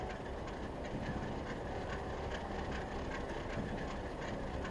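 Model Alco RS11 diesel locomotives run on a layout with a continuous rolling rumble and soft clickety-clack of wheels over track joints, steady and fairly close, with no talking.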